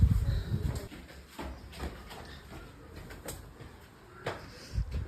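Pigeons released for a pigeon-flying contest at a house, with a few soft wing flutters and bird sounds scattered through a quiet, low rumbling background, louder near the start and end.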